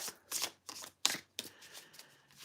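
Tarot cards being shuffled in a quiet room, a string of brisk riffling bursts separated by short pauses, close and moderately loud with no voices.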